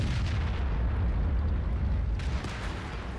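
Artillery fire in the World of Tanks video game, a dense rumbling roar of low booms and blasts filling the whole moment, loud and continuous with a sharper burst near the end.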